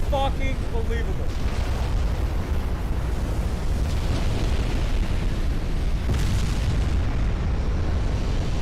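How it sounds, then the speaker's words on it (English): Ammunition detonation aboard a warship in Ultimate Admiral Dreadnoughts blows the turrets off, heard as a long, dense rumbling roar of explosions that stays loud and steady throughout. "Gets a fucking ammo detonation. And it just fucking blowing all of the fucking turrets off."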